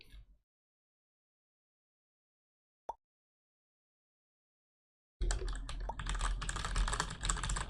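Rapid computer-keyboard typing in a quick, dense clatter of keystrokes sets in near the end, after mostly silence with one short click.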